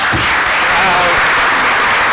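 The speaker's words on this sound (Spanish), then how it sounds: "por favor, un aplauso para Jimena Santaolalla" An audience applauds loudly and continuously at a book presentation, dense clapping filling the room for the whole stretch.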